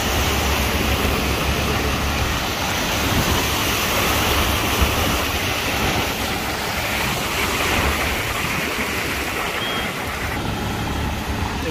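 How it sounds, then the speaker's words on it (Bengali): Floodwater rushes hard through a flooded Dubai street, a continuous broad roar like surf or a weir, steady and loud throughout with some traffic rumble mixed in and no talking. "আর এখানে স্রোত দেখুন একটু বন্ধুরা, কি পরিমাণ স্রোত।"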